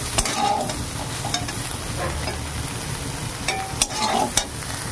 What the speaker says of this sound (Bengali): এবার আমি উঠিয়ে নেব সোয়াবিনগুলোকে